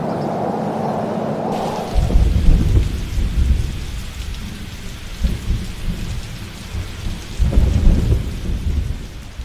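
Heavy rain pouring steadily on surfaces while deep rolls of thunder rumble in several loud swells, close and enveloping with no voices.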